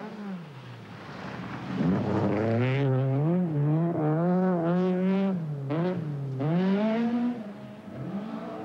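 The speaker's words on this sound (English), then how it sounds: "he leads the race for second place in his brand new 270 horsepower Opel Manta" A brand new 270 horsepower Opel Manta rally car racing at the 1983 Welsh International Rally, its engine revving loud and close with repeated rising and falling pitch sweeps as it accelerates through gear changes.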